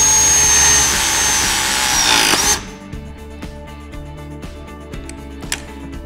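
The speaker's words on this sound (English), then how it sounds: "Press and hold the trigger until the tool has completed the press connection." A Viega MegaPress press tool presses a carbon steel fitting with a loud, steady mechanical whine for about two and a half seconds, then cuts off into quiet with a few faint clicks.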